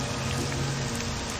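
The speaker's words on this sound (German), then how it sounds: "Es regnet." Rain falling in the game Morrowind, a dense steady patter with a low droning undertone, continuous and even with no voices.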